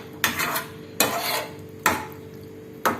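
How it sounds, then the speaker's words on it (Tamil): Beans dal curry being stirred in a metal pot, a spoon scraping and knocking against the pot in four distinct strokes spaced about a second apart, with a faint sizzle beneath and no talking. "சும்மா ஒரு வாட்டி இந்த மாதிரி மிக்ஸ் பண்ணி விட்டுடலாம்."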